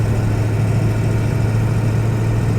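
Inside a lifted 2001 Ford Excursion Limited 4WD with its 7.3L Powerstroke diesel on the move, the engine holds a steady, deep, even drone with no pauses, close and constant.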